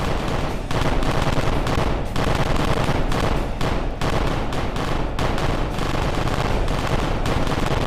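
Turret gunfire in Kerbal Space Program rattles in loud, dense bursts, rapid shots packed together with brief gaps between volleys.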